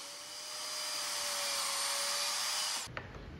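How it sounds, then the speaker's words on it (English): A miter saw whines steadily through a piece of scrap wood, a loud continuous high buzz that cuts off abruptly near the end with a short clunk. "Set your miter saw at that angle and cut a piece of scrap."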